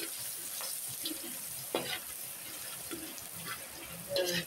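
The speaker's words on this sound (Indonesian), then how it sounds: "ini saya akan tumis pertama adalah jahenya terlebih dahulu pemirsa, seperti ini. Selanjutnya kita akan tambahkan bawang putih" Ginger and then garlic stir-frying in a pan: a soft steady sizzle with occasional scraping stirs and light clinks, fairly quiet throughout.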